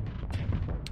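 Missiles firing in a space combat game, the last MRMs launched at a station, a short burst of dense booming blasts lasting under a second.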